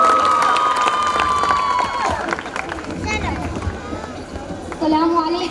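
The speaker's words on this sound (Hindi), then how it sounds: "जोरदार तालियों से जनाब इमरान प्रताप गढ़ी का इस्तकबाल" A school mushaira audience welcomes poet Imran Pratapgarhi with loud cheering, shouting and clapping, a dense crowd roar that swells again near the end, with voices calling out through it.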